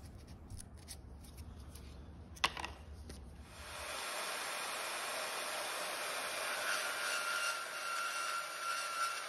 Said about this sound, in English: When sawing, I cut to the inside of the blue line, giving me an accurate cut.